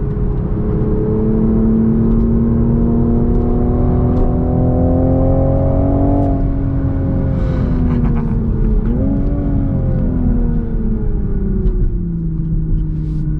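A 2023 Toyota GR Supra 3.0 with a six-speed manual drives on a track, its engine droning loud and steady with rising and falling pitch through shifts and throttle changes, and no talking.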